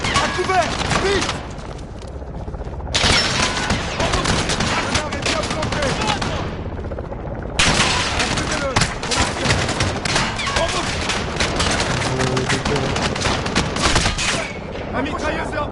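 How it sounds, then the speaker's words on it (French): Loud, sustained automatic gunfire from a machine gun in the Modern Warfare video game, with dense bursts of overlapping shots and explosions nearly throughout, a brief lull midway, and French-speaking voices mixed under the battle noise. "La mitrailleuse est en train de recharger."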